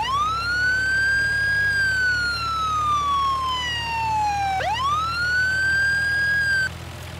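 A wailing police siren from an off-road vehicle mod in Farming Simulator 19, sweeping slowly up and down in a loud, close tone over an engine hum before cutting off.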